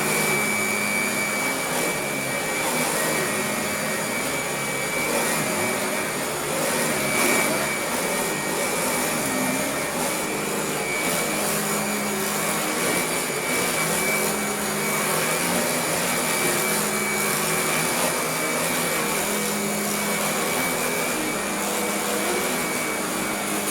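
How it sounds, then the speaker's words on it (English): Hotpoint Junior (Light & Easy) upright vacuum cleaner, restored, running steadily on carpet at a short pile setting, a continuous loud whine and airy roar with little change, close by and without talk. "we can do some carpet vacuuming."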